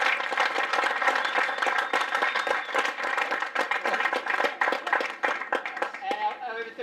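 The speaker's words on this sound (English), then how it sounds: "Let's give them a quick clap." Quick round of audience clapping for a football club's premiership-winning sevens team at a senior awards presentation, dense steady applause lasting several seconds before tapering off at the end.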